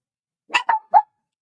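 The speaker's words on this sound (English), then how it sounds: "Damn dogs are going to be the death of me today. They've been raising so much hell." Dogs barking: three quick sharp barks close by in an otherwise silent stretch, the last slightly separated from the first two.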